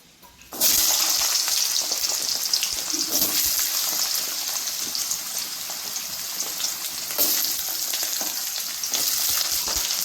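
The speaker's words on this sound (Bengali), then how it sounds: "এরপর আমি এই গাজরটা ভেজে নেবো" Carrots drop into hot oil and fry for a mixed vegetable dish, a sudden loud hiss that settles into a dense continuous sizzle with faint stirring, close and without talk.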